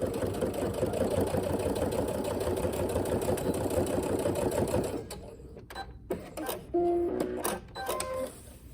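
A sewing machine stitches straight across the boxed corner seam of a fabric bag, a loud steady whirring run for about five seconds, then stopping, followed by a few short quieter clicks and brief whirs as the work is adjusted.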